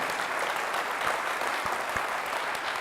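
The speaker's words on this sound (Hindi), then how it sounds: "जोरदार ताली खुदा के नाम से" An audience at a Christian gathering claps loudly and continuously, a dense, steady burst of applause with no speech over it.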